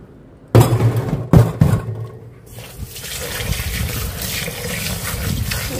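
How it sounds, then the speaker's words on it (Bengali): Polao rice being washed by hand in water, with two sharp splashes near the start followed by a steady rush of running, sloshing water, close and fairly loud, with no talking. "আর এখন হচ্ছে চালটা ধুয়ে নিব, পোলাও চালটা।"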